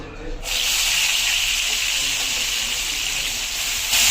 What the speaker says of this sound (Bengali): এবার ওই তেলেই আমি পেঁয়াজ বাটাগুলো দিয়ে দেবো।